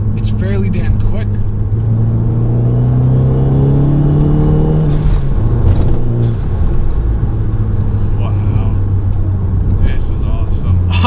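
A tuned Fiat 500 Abarth with an upgraded turbo accelerates hard, its mid-pitched engine rising through a rev sweep, dropping at a shift, then climbing again under steady cabin rumble while someone talks.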